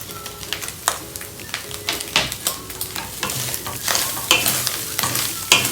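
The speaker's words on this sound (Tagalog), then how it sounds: "At lalagay na natin yung ating garlic at yung onion." Chopped garlic and onion hit a pan of ground beef and are stirred, giving a steady sizzle broken by repeated scraping stir strokes, close and fairly loud.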